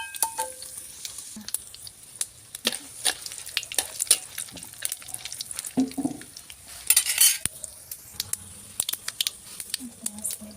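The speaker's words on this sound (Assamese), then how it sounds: "শুকান জলকীয়া আৰু সৰিয়হৰ দুটামান লৈছোঁ, বগা সৰিয়হ আৰু নহৰু এটা দিছোঁ তেলত দি দিম" Dry chilies, mustard seeds and garlic fry in hot oil in a home kitchen, giving a bright crackling sizzle broken by frequent utensil clinks and stirring scrapes against the pan.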